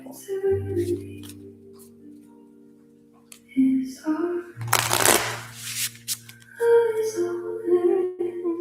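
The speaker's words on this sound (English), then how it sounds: "we will shuffle." Riffled cards shuffle in a burst of crisp fluttering near the middle, with a person talking before and after and softer handling sounds throughout.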